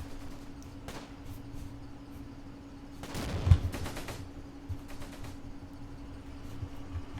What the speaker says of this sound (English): Still gunfire going on over here for some reason.